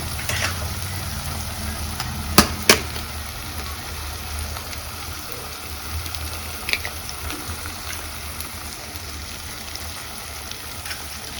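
Eggs frying in a pan for egg rice over low flame, giving a steady, even crackling sizzle throughout, with a couple of sharp clinks early on.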